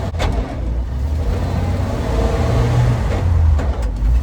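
A 1942 Dodge truck engine with no governor revving loudly while driving, a close, rough mid-pitched roar that swells and eases with throttle over a few seconds.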